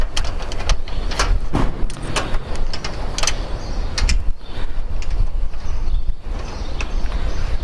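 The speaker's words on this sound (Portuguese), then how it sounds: "Fixei já, vou para o 3º parafuso." A third screw is driven into a solar panel mounting rail with a power tool, giving a loud, steady mechanical whir that is close and continuous, broken by sharp metallic clacks and knocks, with no talking.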